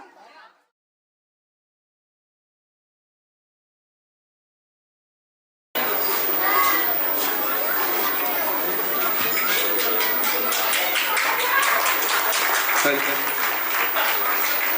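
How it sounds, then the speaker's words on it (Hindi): Loud, dense applause from a theatre audience welcoming performers onto the stage for an Independence Day drama, a continuous wash of clapping and crowd noise that starts abruptly after a brief moment of silence and carries on steadily. "तो जोरदार तालियों के बीच स्वागत कीजिए हमारे कलाकार का और हमारी प्रस्तुति बंटवारे का"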